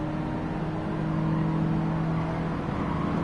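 Steady engine drone of a car in Gran Turismo 7 after the 1.55 update, a continuous low hum with sustained tones, holding evenly throughout with no talk.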